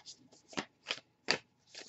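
Tarot cards are shuffled by hand in a series of quiet, crisp riffling bursts, about five in two seconds, with no voice over them.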